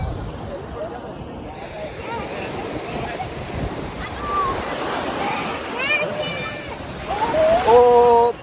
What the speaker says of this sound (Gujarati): બહુ ઉપર ઉભા હતા તો એ આવી ગયા મોજા.